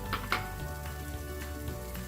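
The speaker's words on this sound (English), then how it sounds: "I'm going to start by sauteing some curry leaves" Soft, steady sizzle of curry leaves frying in hot oil in a pan, with a couple of light utensil clinks near the start; no talking.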